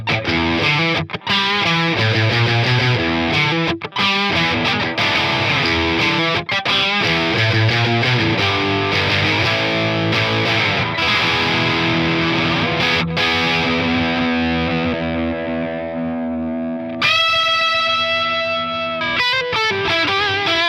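A Baum Revolt electric guitar on the bridge pickup plays a heavily distorted riff of chugging chords and single notes, loud and close, ending on a sustained ringing chord before a short final burst.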